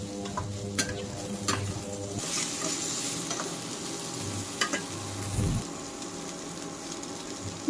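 Jackfruit and potatoes frying in a pan with a steady close sizzle, while a spatula stirs and scrapes against the metal in repeated strokes, no speech.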